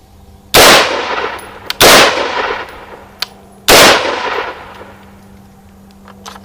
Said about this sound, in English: So let's take some shots like this.